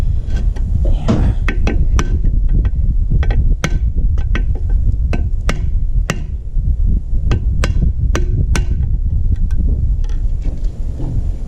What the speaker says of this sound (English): slip one under one side and then beat it with the hammer